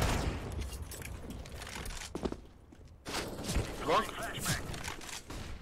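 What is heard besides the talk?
gunfire in a video game shooter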